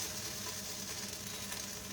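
Kebabs frying in a pan make a constant, even hiss of sizzling oil that stays low and unbroken throughout, with no voices.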